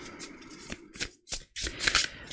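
A tarot card is drawn from the deck with close, dry papery swipes and flicks, several quick brushing bursts separated by short pauses, with no talking.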